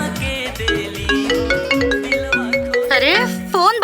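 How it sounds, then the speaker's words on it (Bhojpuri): A phone rings repeatedly in a house in a Bhojpuri movie scene, its electronic tone pulsing in a steady rhythm under background music, with upward warbling chirps near the end. "अरे केहू उठाई फोन बाजता"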